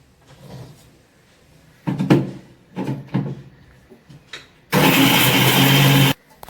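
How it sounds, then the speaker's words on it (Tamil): Kitchen mixer grinder grinding moringa leaves with water, preceded by several knocks and clatters of the jar, then a loud, close whirring burst of about one and a half seconds that stops abruptly. "கொஞ்சம் கொஞ்சமா தண்ணி விட்டு அரைச்சிக்கலாம்."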